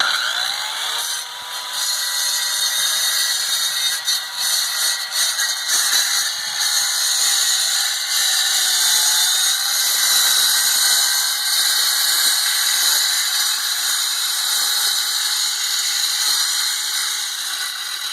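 A power saw grinds steadily into a brick wall to cut an opening for a dog door. The harsh, whining cut runs loud and unbroken throughout, with a high metallic squeal on top and no talking.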